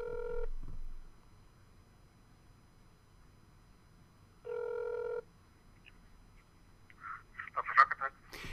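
A telephone ringback tone sounding twice with a long gap between rings, on a call placed to an architecture firm, followed by a faint voice answering.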